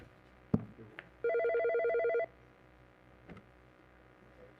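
An incoming call rings a telephone in a county commissioners' meeting room, with one steady electronic trill lasting about a second amid faint room noise and a few knocks.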